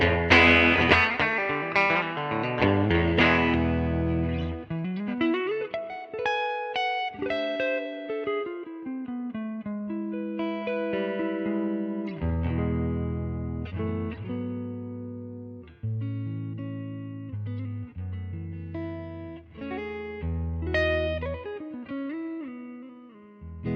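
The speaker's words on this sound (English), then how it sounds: "I'm gonna change up to a Strat to give you some single coil tones" An electric guitar with single-coil pickups, a Strat, plays alone with a bright, effects-laden tone, shifting between ringing chords and single-note runs, with some grit and shimmer throughout.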